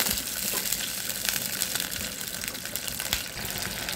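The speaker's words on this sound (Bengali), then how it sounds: "দিয়ে দিচ্ছি কিছুটা জল।" Water pours steadily into a cooking pan during preparation of a shing (stinging catfish) curry, a continuous hissing gush that holds fairly even from start to finish with no voices.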